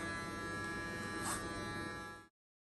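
An electric hair clipper fitted with a guard cuts hair, giving a steady close buzz for about two seconds before cutting off sharply into silence.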